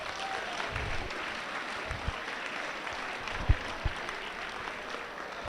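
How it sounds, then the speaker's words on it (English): Sustained applause from an audience at an education summit and graduation ceremony, honoring a new mother; steady crowd clapping at moderate level with a few sharper knocks or claps standing out. "So I want to give a special round of applause to the new mom."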